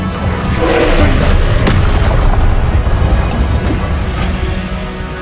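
A loud, booming Confringo blast spell in the Hogwarts Legacy video game rolls out and decays over several seconds, with sharper cracking impacts layered inside it.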